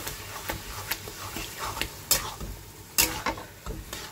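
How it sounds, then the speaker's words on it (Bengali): Yogurt is stirred into egg curry in a pan, with repeated soft scraping and clicking strokes of a spoon over a faint, low simmering sizzle, fairly quiet and close. "এবার সুন্দর করে আমি মিক্সড করে দেবো।"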